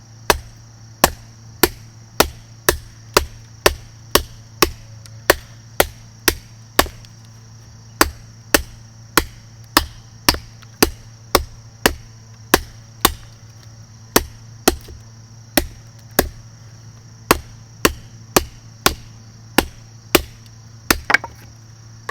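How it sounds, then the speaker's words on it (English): A K-Bar knife with a saber grind chops wood in a rapid series of about thirty sharp, loud, close strikes, evenly paced with a few quick doubles, over a steady low hum. "we're going to see how well it chops"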